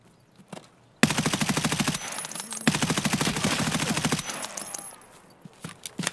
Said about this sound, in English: You didn't know I came over with the M4, did you?